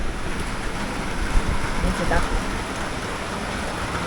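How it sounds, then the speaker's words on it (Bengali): Heavy rain pours down during Cyclone Remal at night, a dense, steady roar with gusting wind that stays loud and constant throughout. "কি অসম্ভব জোরে বৃষ্টি পড়ছে আর সেই সঙ্গে ঝড় হচ্ছে"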